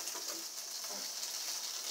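Sausages sizzle on an outdoor grill at a winter cookout, giving a steady, soft hiss with faint crackles throughout, fairly quiet and continuous with no voices.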